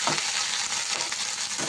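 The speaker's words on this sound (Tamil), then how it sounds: "முருங்கைக்கீரை போட்டு நல்லா கொஞ்சம் லைட்டாக வதக்கினா போதும்." Fresh drumstick (moringa) leaves are sautéed lightly in a hot pan, giving a steady close sizzle with occasional stirring scrapes and no talk over it.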